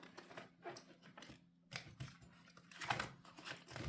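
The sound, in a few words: shuffling tarot cards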